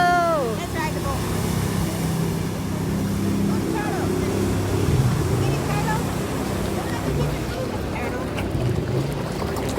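A motorboat engine drones steadily over wind and water noise at Broadway at the Beach, South Carolina, with people talking and exclaiming throughout.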